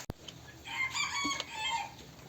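A Silver Laced Wyandotte rooster on a poultry farm crows one long, clear call with a few faint clucks around it. It sounds close and stands alone, with no talk.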